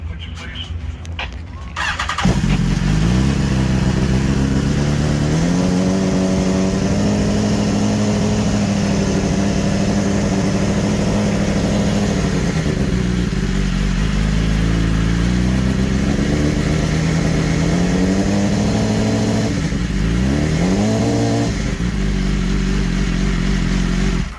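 A racing superbike with rocks in its muffler fires up after a brief start attempt and settles into a loud, rough, close idle, its pitch rising and falling with blips of the throttle.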